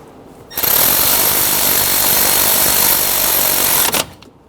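A power tool snugs down bolts on a Honda Pilot timing belt tensioner during a timing belt and water pump job, running as one loud steady burst of about three seconds with a sharp start and stop.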